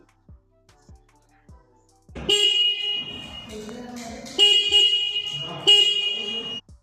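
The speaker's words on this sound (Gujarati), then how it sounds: "હોર્નની ચાલુ કરીને તમને બતાવું." A 2025 Honda Hornet 2.0 motorcycle's single horn sounds close by in three loud beeps, the second and third following shortly after the first, after a few faint clicks.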